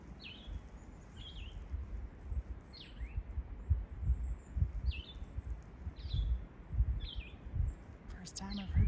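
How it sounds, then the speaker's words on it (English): A single bird sings repeated short, high, descending phrases from a little distance on a hillside along the Appalachian Trail, each brief call spaced about a second apart over low wind and handling rumble. "First time I've heard a bird all day."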